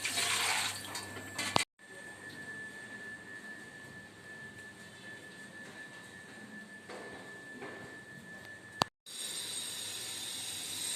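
An electric water pump fills a household water tank with a steady rushing, hissing flow and a faint constant whine, broken by two brief cuts.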